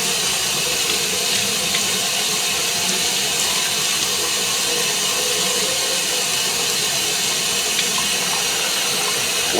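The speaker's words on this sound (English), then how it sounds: "And just rinse it off." Tap water running steadily over a freshly demolded resin cast being rinsed in a sink, a constant loud hissing splash close by with no breaks and no talk.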